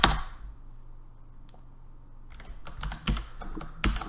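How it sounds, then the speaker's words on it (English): Computer keyboard keys clatter during a live coding session, first a single stroke, then a quick irregular run of close, crisp clicks after a short pause. "should look at what I'm typing"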